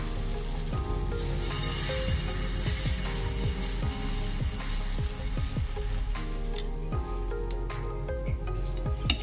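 Patishapta batter sizzling on a hot, oil-brushed tawa as it is spread around in a circle, a soft continuous crackle up close, with scattered light scraping and no voices.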